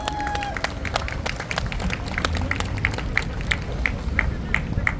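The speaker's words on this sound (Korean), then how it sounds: "박수로 맞아주시기 바랍니다." An outdoor rally crowd in Daegu claps steadily over a low rumble of traffic and background noise, the claps rhythmic and moderately near, with a faint murmur of voices underneath.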